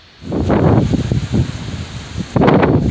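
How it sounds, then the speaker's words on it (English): Strong gusts roar across the microphone outdoors, swelling and fading in bursts, with a fresh loud blast near the end. "It started to get really windy."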